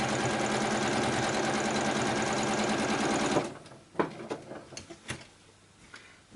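A sewing machine stitches quilt fabric in a fast, loud, steady mechanical chatter for about three seconds, then stops abruptly, leaving scattered clicks and small handling knocks.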